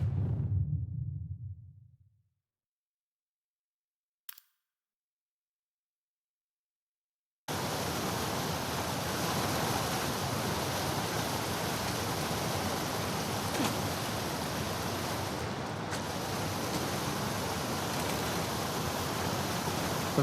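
A fast-flowing torrent of water rushes through sewers in The Last of Us Part II, a steady, dense roar that starts abruptly after a few seconds of near silence and continues unbroken at an even level.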